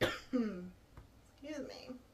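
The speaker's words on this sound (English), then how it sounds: "I'm gonna cough, sorry." A brief throat-clearing cough bursts out close to the mic, followed by a second smaller cough and a soft throaty rasp, alone in a quiet room.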